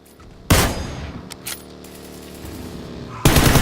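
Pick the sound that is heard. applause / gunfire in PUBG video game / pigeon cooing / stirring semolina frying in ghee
gunfire in PUBG video game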